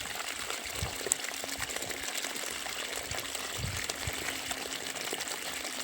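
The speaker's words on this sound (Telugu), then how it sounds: "పైపులకైతే రంధ్రాలు చేసుకోవడం జరిగింది. ఫ్లో వెళ్తూ ఉంటాయి." Water sprays and flows from holes punched in irrigation pipes watering a field of yellow flowers, a steady close hiss and gush with no voices.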